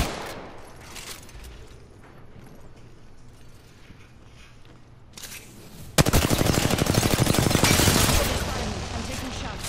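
Rapid automatic gunfire in the video game Apex Legends starts abruptly and rattles on loud and close after a quieter stretch with scattered shots.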